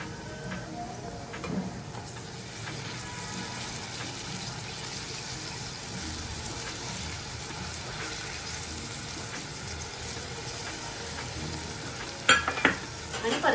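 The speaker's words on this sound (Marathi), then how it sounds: "आणि परतवून घेऊया।" Shevla, a wild monsoon vegetable, being sautéed and stirred in a pan: a steady soft sizzle with scraping stir strokes throughout, close by, ending in a few louder clinks.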